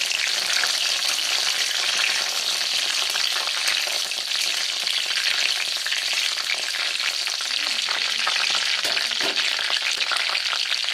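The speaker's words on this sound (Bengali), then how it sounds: "খুব ভালোভাবে গরম হয়ে গেলে এর মধ্যে দিয়ে দেব দুটো তেজপাতা আমি ছিঁড়ে নিয়েছি সেটা দিয়ে দেব আর দিয়ে দেবো দুটো শুকনো লঙ্কা আর আধা চামচ পরিমাণ জিরে" Bay leaves, dried red chillies and cumin seeds frying in hot oil, giving a loud, continuous crackling sizzle with dense popping throughout, close and without voices.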